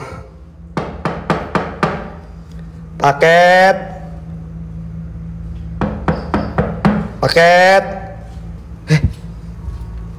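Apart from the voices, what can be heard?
knocking on a toilet door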